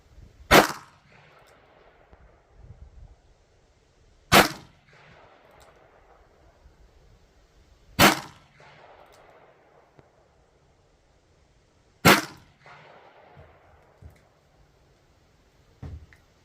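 Smith & Wesson 610 revolver fired at a shooting range: four loud, sharp single shots spaced about four seconds apart, each followed by a short echoing tail, with a fainter fifth report at the end.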